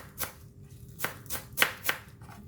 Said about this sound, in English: the Chinese parsley, we're going to cut it in a very small pieces